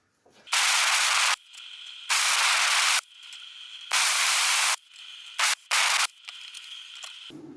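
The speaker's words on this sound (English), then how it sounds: "cut it out with the plasma cutter" Plasma cutter slicing out a metal oil sump for a Ford Escort Zetec RWD conversion, fired in several loud hissing bursts of about a second each, then two short blips, with a compressor hum running between cuts.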